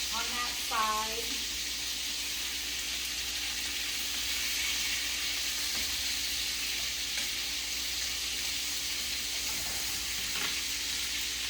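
Chicken pieces searing in a skillet just after being flipped, a steady close frying sizzle holding throughout with a brief clatter at the start, later going into a light bacon cream sauce.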